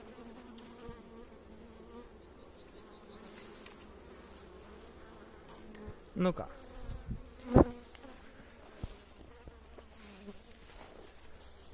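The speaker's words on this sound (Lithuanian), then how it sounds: "Bitės gerai jaučia, kaip jūs prakaituojat." Bees buzzing steadily around a hive outdoors on a grassy hillside in Norway, a soft continuous drone with a few louder thumps and rustles near the middle and a brief voice.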